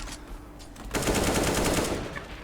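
Automatic spray fire from a rifle in a Counter-Strike: Global Offensive 2v2 match, a sustained rapid burst that starts abruptly about a second in and rattles loudly until the end.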